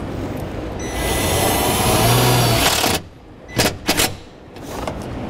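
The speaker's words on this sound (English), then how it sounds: "We're going to screw it right into there using the provided self-tapping screw." A power drill drives a self-tapping screw into the body metal of a 2013 Hyundai Elantra. Its loud, steady whine runs about two seconds and stops, followed by a few sharp clicks.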